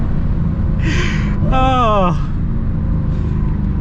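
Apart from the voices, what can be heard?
Dodge Challenger SRT Super Stock engine in a tunnel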